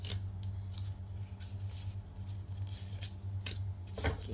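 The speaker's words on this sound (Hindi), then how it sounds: "ओके चलिए, तो हमने 3 कार्ड्स निकाल लिए हैं।" Tarot cards are handled and drawn from a deck, giving faint, sparse papery flicks and soft snaps over a low steady room hum, with no one speaking.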